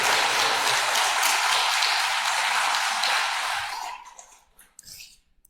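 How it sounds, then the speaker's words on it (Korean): A church congregation gives a dense, steady round of applause for its members that fills the room, then tapers off and stops, leaving a few scattered claps and quiet. "이분들을 위해서 큰 박수를 한번 보내주시면 고맙겠습니다"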